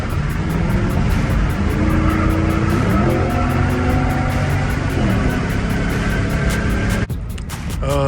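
Heard from inside the cabin, a lowered 2006 Ford Mustang GT V8 drones loudly as it drives, its engine note rising and shifting with steady road noise, then dropping briefly near the end.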